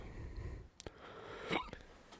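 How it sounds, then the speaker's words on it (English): Two or three sharp, quick hiccups break a quiet background, each a short jolting catch of breath, close and fairly soft. "Oh, you got the hiccups there, brother."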